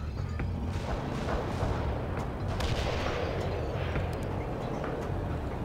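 Artillery barrages thunder across a battlefield in the World in Conflict strategy game, with dense, continuous rumbling booms and sharp cracks of gunfire layered throughout, loud and unbroken.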